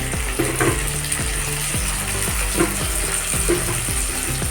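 Tomato and ginger spice paste sizzles steadily in a hot pan during cooking of an old-style snail curry, with repeated scraping stirs landing in a regular rhythm over a constant frying hiss.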